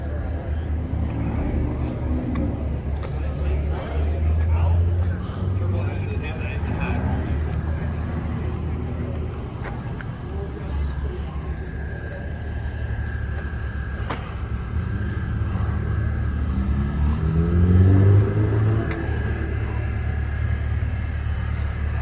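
A noisy car creeping past at around 12 miles an hour, a continuous low engine rumble that swells as it nears, with people talking over it.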